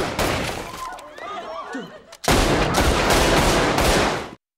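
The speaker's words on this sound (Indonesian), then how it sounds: "terdengar suara tembakan dari penjaga keamanan, hingga akhirnya baku tembak pun gak bisa dihindarkan" Heavy gunfire from a film's bank-robbery shootout with security guards crackles in dense bursts, eases into a quieter stretch with scattered shots, then erupts again into sustained, loud rapid firing before cutting off.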